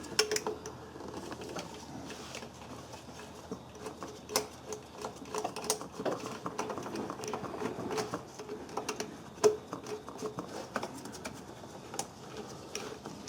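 A 5mm hex bit works a thermostat housing bolt loose on a VW Jetta VR6, giving a steady stream of quick ratcheting clicks and small metallic ticks, close by and moderately quiet, with no voices.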